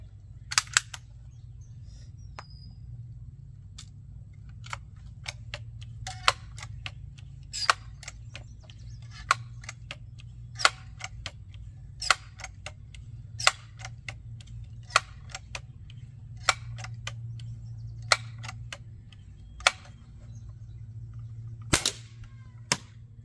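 Crosman 760 Pumpmaster air gun fired outdoors at 10 yards: sharp, light snaps repeat irregularly every second or so over a low steady hum, each crack brief and close.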